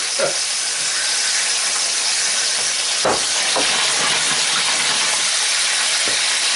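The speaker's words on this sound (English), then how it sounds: "So I'm going to drop my tails in." Seafood tails hitting a hot pan for cioppino, a loud steady broadband sizzle that fills the whole clip, with a few sharper crackles and spits popping out of the hiss, close and alone with no talking.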